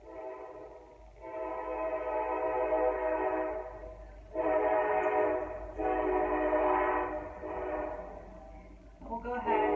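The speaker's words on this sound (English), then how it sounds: "open our eyes to the sound of the train" A train rumbles past, its horn blaring in long sustained blasts over the steady roar of the cars.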